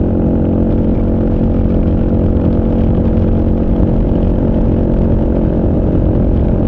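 A Kawasaki KLR motorcycle engine drones steadily at highway speed below 5,500 RPM, with a loud, unbroken rumble and wind noise throughout.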